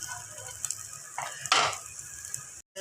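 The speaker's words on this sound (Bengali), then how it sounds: "যেন আমি রসুন, পেঁয়াজ এবং কাঁচামরিচ মিলে ভাজা নেব আর কি" Chopped garlic, onion and green chilies fry in a pan for a dried puti fish mash, giving a soft, steady sizzle broken by a few louder scraping stirs and brief clinks before a short gap.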